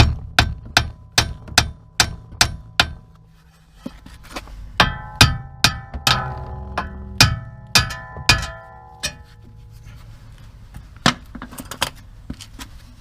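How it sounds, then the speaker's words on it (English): A hammer strikes metal suspension parts on a Nissan Leaf in a series of sharp ringing blows, first in a quick regular run, then in scattered bursts with brief pauses. "the hammer's coming out."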